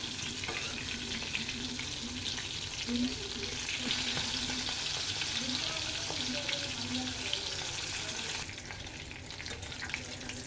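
Hilsa fish frying in hot oil, a steady close sizzle and crackle running throughout, with brief stirring and a faint water-like wash near the end; no talking.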